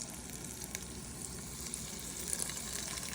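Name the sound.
venison meatballs frying in oil in a skillet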